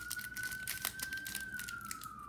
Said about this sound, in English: Sirens in New York.